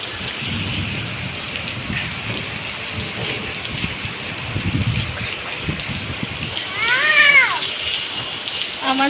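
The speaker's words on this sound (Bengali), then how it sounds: "অনেক বৃষ্টি নামছে বন্ধুরা যেমন বৃষ্টি তেমন বাতাস প্রচুর বাতাস" Heavy rain pours steadily with gusting wind, a loud continuous roar, and a cat meows briefly near the end.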